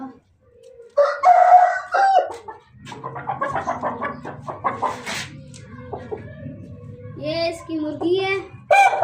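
A large rooster crows with long drawn calls and breaks into repeated clucking, close and loud, with other fowl sounds and brief child-like voices mixed in while a new chicken coop is being set up.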